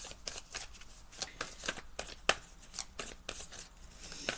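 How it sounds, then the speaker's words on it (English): A deck of tarot cards being shuffled close up, a rapid series of crisp riffling flutters and soft slaps in an uneven rhythm, quiet and alone with no talking. "Let's pull some tarot and see what's going on."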